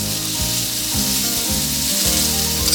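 Onion frying in a pan for Peruvian lomo saltado, a close, steady loud sizzle with repeated scraping stirs.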